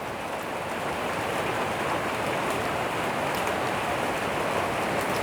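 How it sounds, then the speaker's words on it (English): Steady rain falls on a surface close by as a continuous, even hiss that holds at the same level throughout, with no voices over it. "sometimes there's nothing better than just sitting in and listening to the rain"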